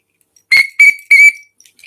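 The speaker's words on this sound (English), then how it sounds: "Oh, there's a whistle. Yes, we'll have a whistle." Three sharp, shrill blasts of a whistle ring out close and loud, the last one slightly longer, with silence between them and afterward.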